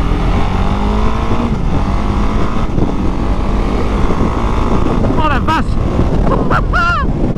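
A Husqvarna Svartpilen 701 roadster with a supermoto engine accelerates hard with quickshifter gear changes, its engine note climbing through rising steps beneath heavy wind rush on the microphone.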